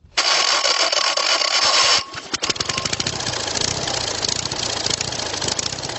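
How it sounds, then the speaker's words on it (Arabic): A small Polish-built Fiat car engine fitted to a homemade wooden motorcycle runs steadily after a loud burst of noise at the start, with a rough, chugging idle throughout. "استخدم محرك سيارة فيات صغيرة صنعت في بولندا"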